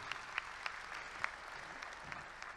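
A conference audience applauds together, a steady dense wash of clapping with a few sharper individual claps standing out, heard alone without speech.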